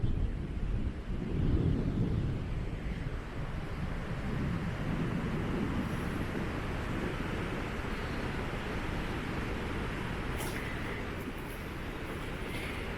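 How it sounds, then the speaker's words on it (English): Strong typhoon wind buffeting the microphone in loud, rumbling gusts at Mactan beach, Camotes Islands, continuous throughout with no voices. "It's very windy right now because there's a typhoon in Mindanao."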